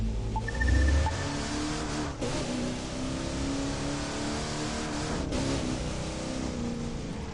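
A car engine revs in the racing video game The Crew 2, a sustained, droning roar with brief dips like gear changes, loud and continuous without any talk.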